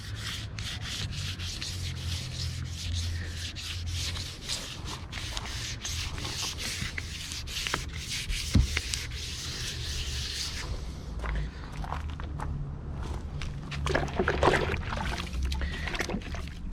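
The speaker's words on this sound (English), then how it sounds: "Sandpaper seems to last longer when you wet it. It just works better." Wet sanding an RV body surface by hand with wet-dry sandpaper gives a steady, close scratchy rasp of rapid back-and-forth strokes, continuous and fairly loud. It eases slightly midway, then carries on with scattered heavier strokes.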